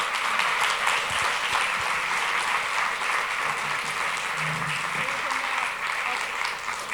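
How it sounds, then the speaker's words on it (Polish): An audience in a cinema at the opening of the Millennium Docs Against Gravity film festival applauds the makers of the documentary The Territory, giving steady, dense clapping that carries on for several seconds, with faint voices underneath. "Raz jeszcze poproszę o oklaski dla twórców filmu."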